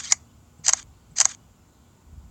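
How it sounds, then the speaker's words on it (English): LG V40 phone camera shutter clicking three times at even half-second intervals, sharp and close against near silence. "You can hear the shutter firing three times"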